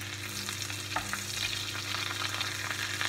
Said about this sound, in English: Just make sure when you're basting it, you get plenty of that foaming butter into the cavity as well.